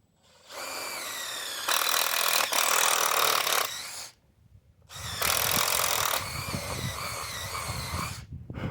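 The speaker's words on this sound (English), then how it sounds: "so I've got to drill some holes" A power drill bores holes through the roof of an RV slide-out, two loud, close whining bursts that rise in pitch as the bit bites, separated by a short pause.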